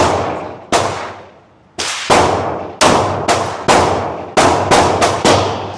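Glock pistol shots at a shooting range, about ten sharp loud reports fired singly and in quick pairs, each trailing off with an echoing decay, no talking.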